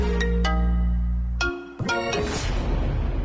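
A phone ringtone chimes for an incoming call in a Malayalam TV serial scene, a short melodic tone pattern that breaks off and restarts, loud and close with no talking.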